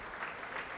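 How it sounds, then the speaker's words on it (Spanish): A church congregation applauding, a brief, even burst of clapping heard at a moderate distance. "Denle un aplauso a Cristo con todo el corazón."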